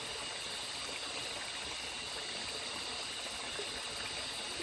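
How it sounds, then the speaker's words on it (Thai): A forest stream flows continuously during the rainy season, its gentle rushing and bubbling water steady and even, with no other sounds standing out. "คืนนี่นอนฟังเสียงน้ำไหล"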